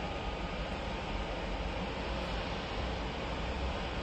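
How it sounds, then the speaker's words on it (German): Express train for a travel agency, arriving from Opatija, rolls into a platform at Graz main station with a steady, loud, continuous broadband rumble and roar, no distinct breaks, heard alone. "Schnellzug für Reiseveranstalter 14620 von Opatija fährt ein"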